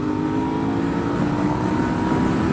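Suzuki SV650S motorcycle engine revving in place, a loud, close, continuous throaty drone with steady harmonic tone that rises slightly toward the end, with no talk over it.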